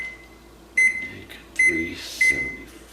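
An oven control panel is set to preheat to 375 degrees, giving three short electronic beeps spread a second or so apart over a low steady hum, with a faint clunk in between.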